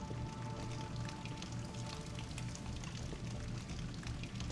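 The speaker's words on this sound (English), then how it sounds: "Oh, it's water." Steady stream of water pouring in Deus Ex: Human Revolution, a constant splashing rush with fine droplet patter, fairly quiet and without talk.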